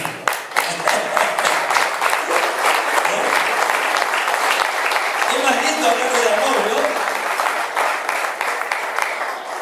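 A church congregation claps during a sermon, a dense, loud round of applause running the length of the stretch while a preacher speaks over it in Spanish.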